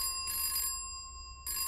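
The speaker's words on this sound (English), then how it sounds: "I'm having too much fun to answer the phone" A telephone rings in two short trilling bursts with a gap between them, fairly faint, and a third ring begins just as it ends.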